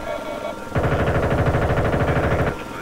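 Sustained automatic gunfire in Battlefield: Bad Company 2, a loud, rapid, even rattle of shots lasting nearly two seconds before cutting off, with quieter game ambience around it.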